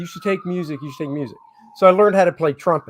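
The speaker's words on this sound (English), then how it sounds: "I'm sorry about the sirens." A siren wails steadily in the background, a long gliding tone running beneath people talking, with a brief pause in the speech partway through.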